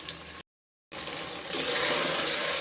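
Green peas boiling in a pot of water for pulao, a steady bubbling hiss that breaks off briefly, then returns and grows louder and fuller, close by with no voices.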